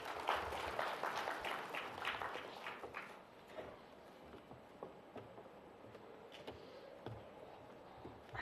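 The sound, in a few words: audience applause welcoming conference speaker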